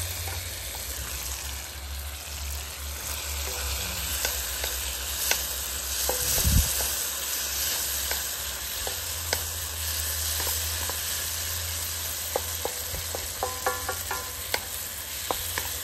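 Diced leftover Spam sizzles in a pan at a campsite breakfast on Vancouver Island, with a steady hiss of frying broken by scraping stir strokes and a few louder clacks, close and clear with no talk.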